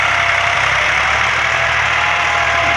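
A 2006 Massey Ferguson 260 turbo tractor idles close by, its diesel engine giving a loud, steady, even rumble with a faint knocking pulse throughout, and no voices.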